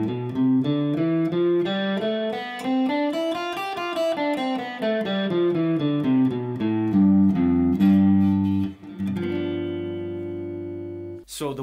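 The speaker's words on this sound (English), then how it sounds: "So all of these notes, bar 1, are found in G mixolydian, which in this open position would look and sound like this." A guitar runs through the G mixolydian scale in open position, single picked notes climbing and descending in a steady run, then a few sustained notes ringing out near the end, played clearly and alone.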